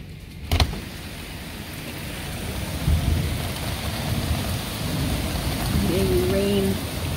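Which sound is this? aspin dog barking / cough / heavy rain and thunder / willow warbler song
heavy rain and thunder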